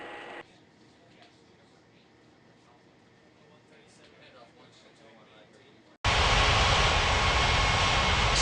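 In an airport video game, an airplane takes off as a loud, steady engine roar that starts suddenly late in the clip after a quiet stretch of faint background sound.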